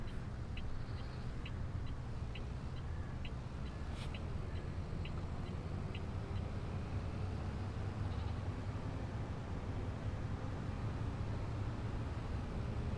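Faint video-game goat bleats from Farming Simulator 22 come and go over a steady low ambient hum, with soft repeated ticking sounds in the background.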